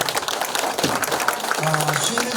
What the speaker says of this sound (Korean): 열강해주신 김정길 박사님께 다시 한번 뜨거운 박수를 부탁드립니다